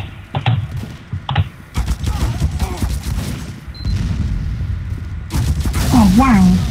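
Sniper rifle shots in Team Fortress 2, a few sharp single cracks spaced apart amid game noise and clicking, with a voice talking over much of it.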